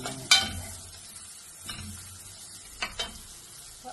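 Sliced onions hit melted butter in a pan, giving a soft sizzle with a few sharp scraping stirs and clatters spaced through the stretch, close and fairly quiet, without speech.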